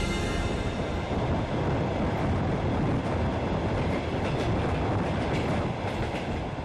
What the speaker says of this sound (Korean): 블라디보스토크에서 시베리아 횡단 열차를 타고 수천 킬로미터를 달려 도착한 스보보드